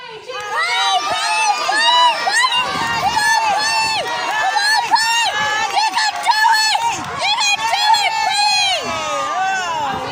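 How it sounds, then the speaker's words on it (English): An audience cheers loudly during a parrot bucket-pulling race, a dense, sustained roar of shouts and high-pitched whoops from many voices. "I need you all to cheer as loudly as you can"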